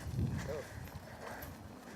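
An Arabian horse's hooves stepping on a surface, a few soft clip-clop footfalls close by, faint beneath the background.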